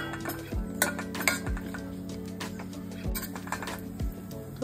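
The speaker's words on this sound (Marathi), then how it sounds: "त्याच्यात कापलेले ड्रायफ्रुट्स घालून आपण भाजून घेऊया." Chopped dry fruits roasting in ghee in a pan, a spoon scraping and clinking against the metal in irregular strokes over a soft, steady sizzle, fairly quiet and close.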